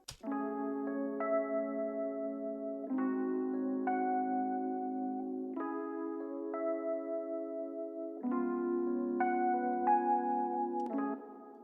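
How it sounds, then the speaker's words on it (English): A UAD Electra 88-key electric piano preset plays a loop of four sustained chords, each held for a few seconds before the next, clean and alone with no voices. "So next we added this UAD Electra 88 keys preset"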